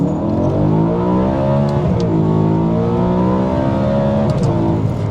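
A BMW E92 M3 V8 revs hard and loud up close, its tone climbing and dipping in long continuous sweeps, a sustained rasping roar throughout with no pauses.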